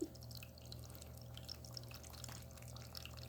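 Fresh water trickles steadily from a pet water fountain for kittens, a soft continuous flow with faint drips over a low electrical hum from the pump, heard close and quiet throughout.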